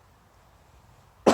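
A single sharp cough from a man with a tickle in his throat, close and loud, bursting in after a stretch of near silence at the very end.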